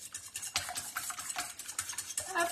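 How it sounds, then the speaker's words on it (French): Eggs being beaten in a bowl, quick rhythmic scraping and clinking strokes of a utensil against the bowl, soft and close, without talking. "Allez, on va mélanger un petit peu les œufs."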